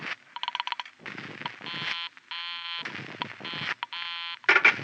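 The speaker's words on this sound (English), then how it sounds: "I held off dialing the last number on my phone until she got an answer" A telephone is dialed in an old-time radio drama, a sequence of clear electronic tones in short bursts and longer held beeps with brief gaps, close and alone without speech.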